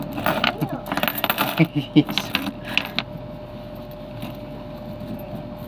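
One-peso coins clink and drop in quick, uneven bursts as a street vendor counts them. Metallic jingles cluster early, then fade to a faint hum.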